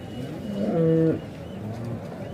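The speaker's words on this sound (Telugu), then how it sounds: "ఇవన్నీ ముర్రా ఎనాలు." A Murrah buffalo at a cattle market near Chintamani lets out one deep, drawn-out moo lasting about half a second, close and clear against faint market background noise.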